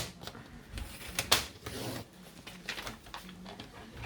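A paper trimmer slices a strip of paper during card crafting, giving a quick scraping zip-like rasp of the blade in the middle, surrounded by quiet rustling and handling noises at close range.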